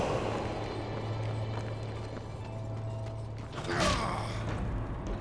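Heavy door in the video game Darksiders grinding and creaking open, a mechanical rumble with a low hum that swells into a louder scraping burst near the end, with no talk.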